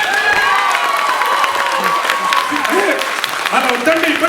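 Crowd clapping at a Ugadi celebration stage show, a fairly loud, continuous patter of hands mixed with voices, shouts and some cheering over the top.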